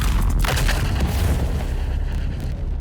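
Loud booming impacts from Crippling Strike and Suspensive Blast abilities landing in the video game Dune Awakening, a heavy blast followed by sustained rumbling and crackling debris, with no voices.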